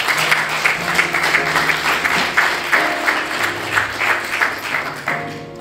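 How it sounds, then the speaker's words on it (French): A church congregation applauds and cheers in a large hall, the clapping swelling and ebbing in waves, with music or voices faintly underneath. "Est-ce que tu peux acclamer les Seigneurs?"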